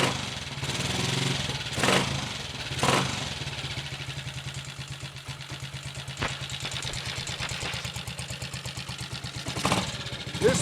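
A Triumph Tiger Cub motorcycle with a Zenith carburettor and 6-volt electrics runs steadily after sitting for over two months. Its single-cylinder beat is close and even, with a few brief blips of revving and clatter and no talk.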